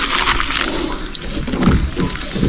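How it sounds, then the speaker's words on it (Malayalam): Muddy water gushes from the drain tap of a large tank holding monster fish such as arapaima and snakehead, a steady close rushing and splashing that swells slightly toward the end. "നമുക്ക് ഇതിൻ്റെ ടാപ്പൊന്ന് തുറന്നു കിട്ടാം"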